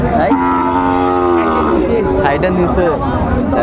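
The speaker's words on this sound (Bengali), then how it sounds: "বেশ সুন্দর গরুগুলো কোয়ালিটি সম্পন্ন সাইওয়ালের বাচ্চা" A young Sahiwal bull lets out a long, loud moo close by at a cattle market, with people chattering in the background.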